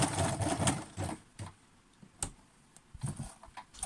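A sewing machine stitches zigzag bias binding onto a neckline in short, uneven bursts of rapid mechanical chatter, with brief pauses between runs, heard close and alone.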